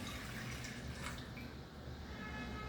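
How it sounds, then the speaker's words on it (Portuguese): Half a litre of water pours into a cooking pan set over a lit stove while churro dough is being made, giving a steady, close splashing rush that lasts throughout. "Coloco aqui 500 ml de água na minha panela."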